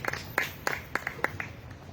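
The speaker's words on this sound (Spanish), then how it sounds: "Dele otro aplauso a su Dios" A church congregation claps at an Easter Sunday service, several quick sharp claps spaced in an uneven rhythm, moderately close, with no one talking.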